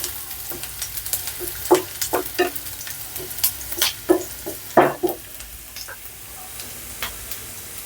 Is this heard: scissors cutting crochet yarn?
no